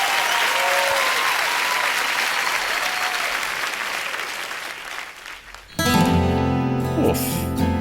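A live audience at La Ley's MTV Unplugged performance of 'El Duelo' applauds steadily after the song, then the crowd noise fades as strummed acoustic guitars and band music take over near the end.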